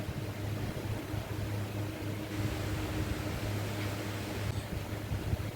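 Steady whirring hum of an electric fan with a low motor drone and broadband airy rush, continuous and fairly close, no voices.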